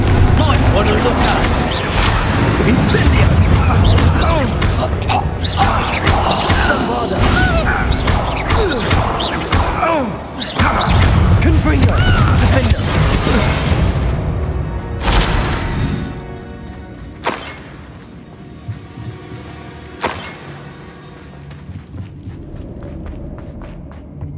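Confringo blasting spells in the video game Hogwarts Legacy: repeated loud, crashing blasts and impacts in quick succession, thinning into scattered hits as the fighting eases, with voices speaking between them.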